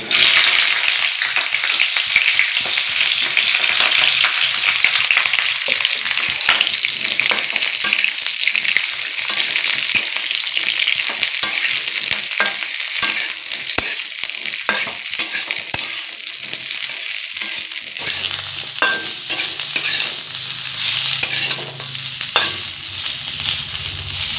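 Pointed gourd (potala) frying in hot oil in a kadai, a steady loud sizzle with scraping stirs throughout, the hiss dropping slightly in the last few seconds.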